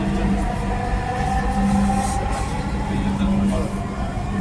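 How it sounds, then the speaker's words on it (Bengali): Dhaka metro train running between stations, giving a steady, loud rumble and low hum from inside the carriage throughout, with a voice speaking over it. "This train is bound for Uttara Uttar."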